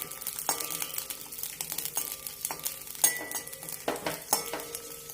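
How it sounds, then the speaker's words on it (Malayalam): Green chilies and garlic sautéing in half a teaspoon of oil for a sesame chutney: a soft, steady sizzle with repeated light clinks and scrapes of a spatula stirring the pan. "പച്ചമുളകും വെളുത്തുള്ളി ഒന്ന് വഴറ്റിയെടുക്കാം അര ടീസ്പൂൺ എണ്ണ ഒഴിച്ചു കൊടുക്കാം നന്നായി ഒന്ന് വഴറ്റിയെടുക്കാം"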